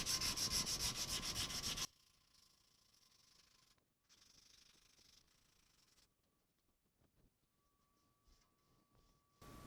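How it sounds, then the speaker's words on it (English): The back of a wooden bow is sanded with 80 grit sandpaper, a loud, rhythmic rasping of quick strokes for the first two seconds, followed by faint, sparse rubbing and handling noises. "give the back of the bow a light sanding to remove any dirt or oil"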